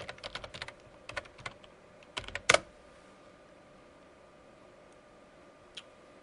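Quiet keystrokes on a computer keyboard as a command is typed at a command prompt, with a quick flurry of taps, a few isolated clicks, then one last tap after a pause.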